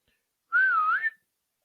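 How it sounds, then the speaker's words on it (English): A girl gives a single long, clear whistle to get someone's attention, the pitch dipping and rising again before it stops sharply, loud and close with nothing else heard. "Then Allison decides to whistle to gain his attention."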